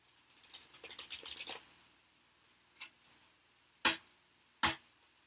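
Tarot cards are shuffled close up, a quick run of soft riffling flicks followed by a few isolated sharp card taps, quiet with no talking.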